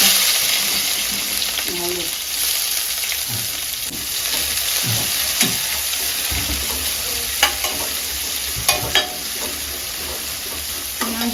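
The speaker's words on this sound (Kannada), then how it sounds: "ಇದು ಸೌಂಡ್ ಕೇಳ್ತಾ ಉಂಟಲ್ವ ಸ್ವಲ್ಪ ಉದ್ದಿನ ಚೆನ್ನಾಗಿ ಕಾದಿದೆ ಇವಾಗ ಸ್ವಲ್ಪ ಈರುಳ್ಳಿ ಹಾಕ್ತೀನಿ" Onion dropped into hot oil with urad dal, sizzling in a pan for a kadle avalakki breakfast, a close, continuous frying crackle with occasional stirring clicks and scrapes.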